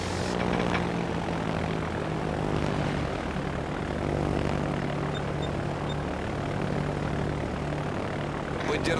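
Fighter aircraft taking off in the naval video game World of Warships, a steady droning propeller engine held loud and close throughout.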